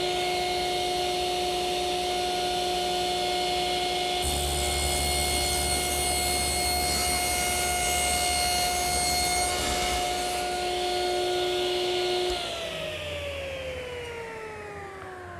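Table or panel saw cutting wood cupboard panels to length, a steady whining motor tone that bites into a louder rasping cut midway and then spins down, with no talk.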